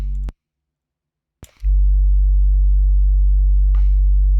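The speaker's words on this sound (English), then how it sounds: "that's basically going to produce a sine wave at the frequency of the cutoff" An analog-mode synth filter in a Max for Live FM effects device self-oscillates into a steady pure sine tone at its cutoff. A few clicks and short bursts come first, then the low, clean tone holds loud and unbroken to the end.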